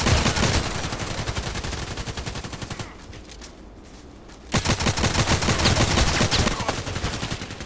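Loud sustained automatic gunfire in the online shooter Contract Wars, rapid rattling rounds that pause briefly midway, then resume at full intensity.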